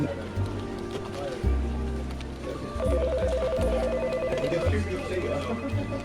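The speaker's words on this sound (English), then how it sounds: "I can't hear anything other than a ringing of a phone and like people talking" A telephone rings under steady background talk, with repeated bursts of an electronic ring over a rumbling, busy room.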